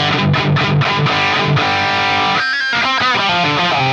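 A distorted electric guitar through a Friedman IR-J with boost engaged plays a fast, driven solo line with a pushed, mid-heavy tone, loud and up front.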